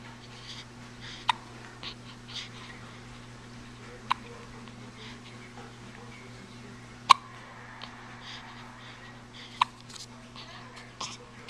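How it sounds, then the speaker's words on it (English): A small child who has just finished eating hiccups softly at irregular intervals of a few seconds, five or six sharp little hics over a quiet room hum. "It's got the hiccups a little bit."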